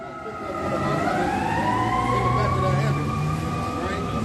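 An ambulance siren wails with rising and falling tones over traffic rumble on a Chicago street, growing louder as the vehicle draws near and passes.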